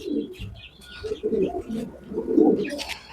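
Pigeons in a loft coo softly and repeatedly in low, rolling bursts, with a few higher chirps and tweets from other birds mixed in nearby.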